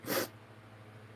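A single short, sharp sniffle from a person, close and brief, followed by faint room quiet.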